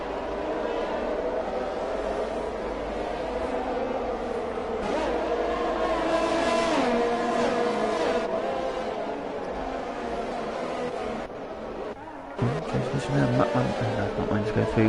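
F1 cars race around the Singapore circuit in a video game, their engines droning and whining steadily as they pass one another. Commentary runs over the engine noise throughout.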